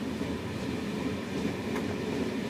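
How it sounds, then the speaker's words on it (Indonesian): A train rolls along the railway with a steady low rumble and a soft rhythmic clatter, continuous and fairly close, with no voices. "Ini kereta udah jalan."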